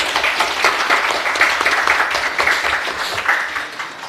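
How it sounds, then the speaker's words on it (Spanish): An audience at an academic cognitive robotics seminar applauds a speaker, steady dense clapping holding for several seconds and tapering slightly at the end. "Un aplauso, por favor."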